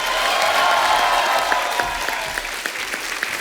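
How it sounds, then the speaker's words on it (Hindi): Studio audience at a Hindi comedy show applauds a guest's arrival with steady, dense clapping, a few sharper claps standing out toward the end. "जोरदार तालियां होनी चाहिए।"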